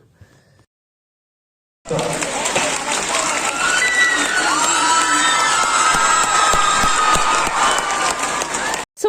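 A TV studio audience bursts into loud clapping, cheering and whooping after a brief silence, a dense, sustained roar of many hands and voices right up close that holds steady until it cuts off.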